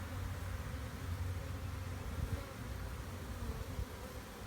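A swarm of honeybees fans and buzzes on a box beneath a plum tree, a steady, dense hum that never lets up.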